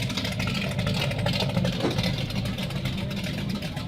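A 1966 Ford Mustang with its original 289 V8, a farm barn find, idles steadily close by, a continuous low engine rumble with a rough mechanical texture throughout.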